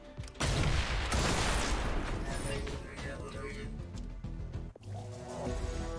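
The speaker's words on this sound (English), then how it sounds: "We're obviously going to throw the Shrapnel Bomb." A shrapnel bomb detonates in XCOM: Chimera Squad with a sudden loud burst of rattling, scattering fragments and crackling debris that slowly trails off, followed by a sharp late impact.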